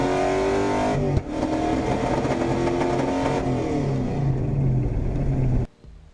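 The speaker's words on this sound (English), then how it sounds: "when the nitrous hits, it's like shaking, misfiring" A 1995 Pontiac Trans Am misfiring on nitrous, its engine roaring loud and close with a rough, stuttering note, a sharp jolt, then cutting off abruptly near the end.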